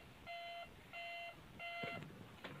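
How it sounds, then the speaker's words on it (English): A toy garbage truck gives off three loud electronic beeps in an even rhythm, each roughly a third of a second long, followed by brief clicking handling noises. "After this, there's a beeping sound"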